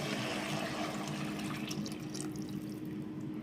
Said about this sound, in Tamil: இப்போது இதுக்கு அளவான தண்ணி ஊற்றிக்கலாம்.